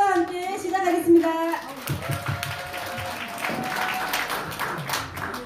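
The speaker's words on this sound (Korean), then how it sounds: "여러분의 큰 박수와 함께 시작하겠습니다" A seminar audience breaks into applause as the event opens, scattered hand clapping that builds into a loose patter after a speaking voice at the start, with a tone lingering beneath.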